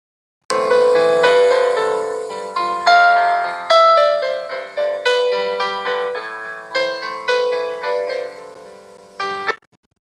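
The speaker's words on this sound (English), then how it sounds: "That was a piano." A piano plays alone, a series of struck notes and chords with clear harmonic tones, each decaying before the next, steady and fairly loud over about nine seconds.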